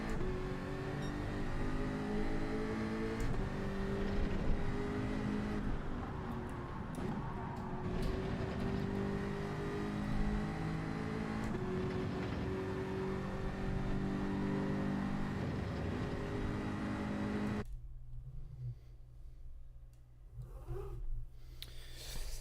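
A McLaren race car engine in Gran Turismo 7 drones and revs with rising and falling pitch under braking and acceleration, loud and continuous for most of the stretch before cutting away to quieter background near the end.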